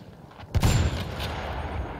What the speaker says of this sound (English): The MG is trying to hit me.